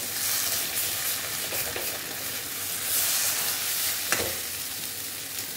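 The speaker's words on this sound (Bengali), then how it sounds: "এখন আমি জল অ্যাড করে দিচ্ছি।" Potato curry for aloo dum sizzling loudly in a pan as water goes in, a steady broad hiss with a few scraping stirs and one sharp clatter partway through.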